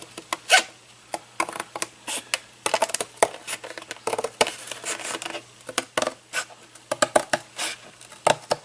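Cardboard shoe box being cut along a drawn line, giving a run of quiet scraping, rasping strokes in irregular bursts, close by with no talk.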